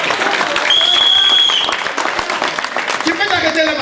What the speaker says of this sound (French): Acclamons.